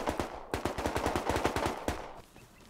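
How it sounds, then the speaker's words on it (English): Rapid automatic gunfire from an auto turret in the video game Rust, a loud burst of about a dozen evenly spaced shots lasting around a second and a half, then a brief tail of fading noise. "You gotta be careful, cause there's an auto turret."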